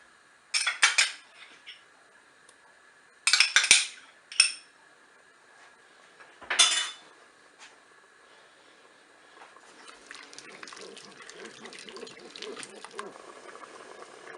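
A spoon clatters and scrapes in bursts against the metal bowl of a Cookeo pot while blanquette ingredients are stirred, followed by a softer stretch of bubbling, liquid stirring.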